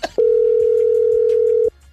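A steady telephone dial tone holds for about a second and a half after a short click, clear and alone, then cuts off abruptly.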